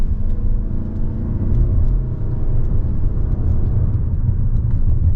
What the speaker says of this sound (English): I'm actually going to put this in the drive sport mode, and we'll take off from the stoplight here